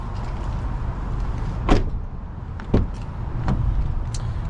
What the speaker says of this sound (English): when you open up the door, it just has a different sound to it